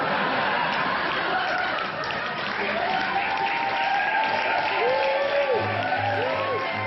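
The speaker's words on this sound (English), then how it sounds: "That wasn't pity clapping, they were hooting and hollering." A crowd claps, cheers and hollers in steady unbroken applause after a speech, loud and close throughout, with voices mixed into the din.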